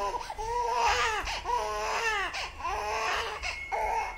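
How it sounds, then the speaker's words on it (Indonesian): A baby cries in a horror video game, loud wailing bursts that rise and fall in repeated sobs across several seconds, close and dominant. "Suara bayi yang lagi nangis"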